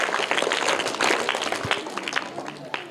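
A group of children and onlookers claps for a quiz winner, a loose, uneven patter of many hands close by that tapers off toward the end.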